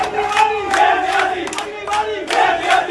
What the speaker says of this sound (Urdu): چینل میں عمران خان وزیر اعظم کے نعرے گونج رہے ہیں